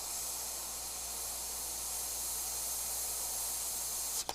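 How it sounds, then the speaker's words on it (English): An airbrush sprays paint onto a tiny 2 x 4 inch landscape painting, a soft continuous hiss held steady throughout and ending with a brief click. "I want to put a little bit of airbrushing right on"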